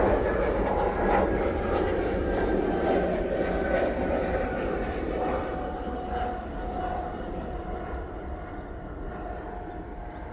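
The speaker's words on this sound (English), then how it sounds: "A320neo departing back to Barcelona." Airbus A320neo jet departing Manchester Airport, a loud steady engine roar that slowly fades as the aircraft climbs away, with a voice talking faintly underneath.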